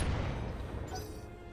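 Weapon fire at a Griffin mech in the BattleTech video game: a single loud, heavy boom opens the moment and rumbles away over the following second and a half.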